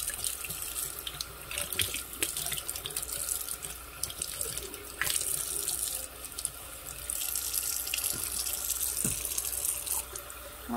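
Tap water runs steadily into a kitchen sink as cilantro is washed under it, a continuous close splashing hiss with occasional drips and handling, no talking.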